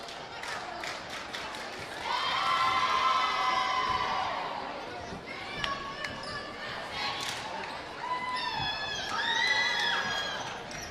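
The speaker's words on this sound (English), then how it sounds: "Nice crowd tonight." A crowd at a girls volleyball match between Central Catholic and Sandy cheers and shouts in swelling bursts, with ball bounces and a voice speaking over the gym noise.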